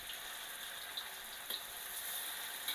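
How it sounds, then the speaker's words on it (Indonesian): Tofu fries in a pan over high heat for sekba, a faint, steady sizzling hiss with a few soft pops and no voices. "kita goreng pakai api yang besar aja, nanti kita baru balik ya"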